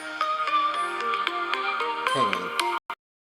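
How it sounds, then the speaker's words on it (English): A phone ringtone from an incoming call plays loud and continuous as a steady melodic tone pattern, interrupting pizza crust preparation in a kitchen, then cuts off abruptly near the end. "so I had a phone call come in and that interrupted me"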